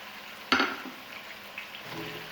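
Soft frying sizzle of boiled eggs in a pan with a sharp clatter near the start, then a low steady hiss with faint stirring.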